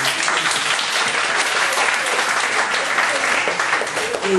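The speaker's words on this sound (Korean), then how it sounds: "박수 한번 쳐줘요" Steady, dense applause from a crowd at an evening church service, loud and continuous for several seconds without letting up.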